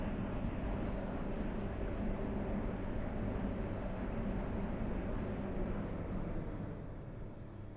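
A train running in the Roblox game SCR gives a steady, continuous rumble and rolling noise, near and unbroken, easing off slightly at the end with no talk.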